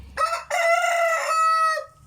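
A rooster, one of a flock being treated for a respiratory infection caught from young birds, crows once loud and close in a long wavering call with a short opening note, with no talk.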